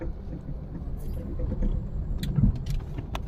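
CNG cab pulling out of a CNG pump, a steady low engine and road rumble from inside the car with a few faint clicks and rattles.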